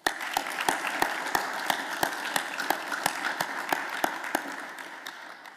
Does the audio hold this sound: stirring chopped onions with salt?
no